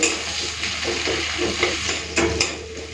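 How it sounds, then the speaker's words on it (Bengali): Onion, garlic and prawns fry together in a pan. Repeated spoon scrapes stir through a steady sizzle, with a couple of sharper knocks near the end. "পেঁয়াজ রসুনের সাথে চিংড়ি মাছটাকেও ভেজে নেবো"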